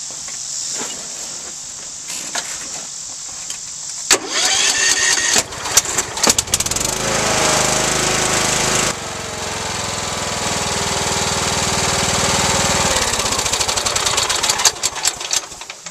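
Husqvarna riding mower engine cranks with a few sputters, then catches and runs loudly and steadily near the listener, with the tone shifting partway through as the throttle changes, ending in rough fluttering bursts.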